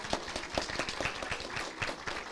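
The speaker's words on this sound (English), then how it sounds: "Please give them a round of applause." Colloquium attendees clap in a quiet, fairly distant round of applause, individual claps audible in an uneven rhythm, with no voices.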